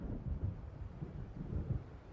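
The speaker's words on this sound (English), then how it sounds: "It seems there's a storm coming." An approaching storm in the video game Alan Wake gives a faint, continuous low rumble of thunder that swells gently in two soft waves.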